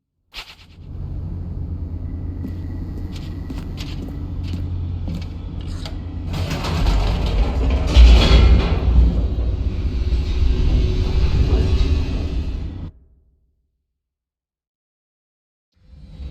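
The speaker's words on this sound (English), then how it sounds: "The elevator raced downward, plummeting towards an unknown fate." An elevator in The Stanley Parable races downward with a steady mechanical rumble that grows louder and harsher midway, then cuts off abruptly into silence.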